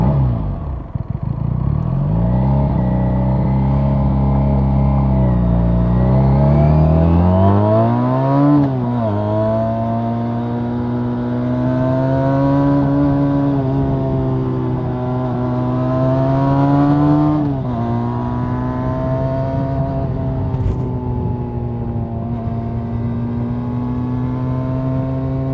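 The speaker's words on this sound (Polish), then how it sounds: "ten motocykl jest tak zestrojony, że brzmi rzeczywiście jak połowa 600" Benelli 302S motorcycle engine revs repeatedly, its pitch climbing and dropping in rising sweeps over a steady close idle, loud and alone with no talking.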